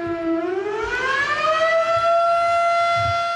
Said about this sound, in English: What would you do if the siren went off